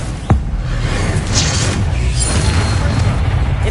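An Incendio fire spell goes off in a wizard video game: a sharp whooshing burst at the start, then a loud, steady, low roaring rumble that fills the rest of the moment.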